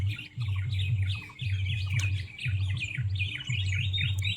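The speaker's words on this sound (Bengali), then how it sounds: "সকাল সকাল পাখিদের কলতান শুনতে খুব সুন্দর লাগছে।" Birds chirp in the morning at an open sports ground, with bright repeated tweets and short trills close by, over a low, pulsing hum in the background.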